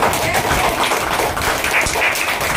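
Steady, dense hand clapping from a group of people gathered at a house celebration, a loud continuous wash of claps that never breaks, with voices mixed in.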